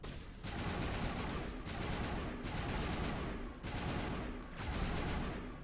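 Weapon fire in the video game Mass Effect rattles out in sustained automatic bursts, loud and dense, split by short gaps into about four long streams of shots with no talk over them.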